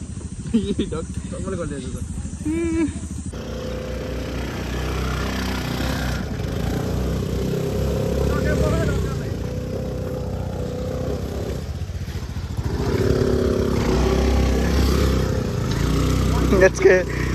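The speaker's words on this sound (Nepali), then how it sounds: "भेस्पाको एडभेन्चर राइड कस्तो हुने हो आज ल" A Vespa scooter engine drones steadily up close for the whole stretch on a slippery muddy off-road track, revving at times, with people talking over it.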